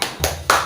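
Two sharp hand claps about a quarter second apart over a low steady tone, keeping time to a cheerful preschool children's song about clapping happily.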